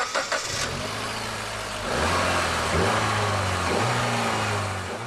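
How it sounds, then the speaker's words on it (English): A 2008 Mitsubishi Lancer Evolution's 2-litre turbocharged engine starts and settles into a loud, close idle, then revs up in a few rising surges. "The 2-litre turbocharged engine is, in a word, a blinder."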